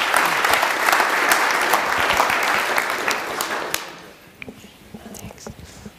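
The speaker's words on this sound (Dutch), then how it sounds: "Graag een warm applaus voor" Warm applause from a Dutch business event audience welcoming a speaker, a dense loud wash of clapping that fades out after about four seconds, leaving quiet room noise with a few stray claps.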